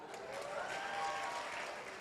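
Audience at an NU-themed stand-up comedy show clapping, a steady broadband patter of many hands lasting a couple of seconds, moderately distant with a slight murmur of the crowd.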